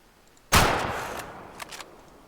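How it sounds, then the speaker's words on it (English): A single hunting rifle shot in Way of the Hunter rings out sharply and loudly, then decays in a long rolling echo, with a couple of faint clicks near the end. "Just going to throw some shots in"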